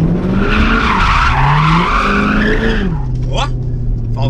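A Corvette on worn tires spins around on asphalt, its tires squealing loudly in wavering screeches over a revving engine roar, and a voice seems to speak over it.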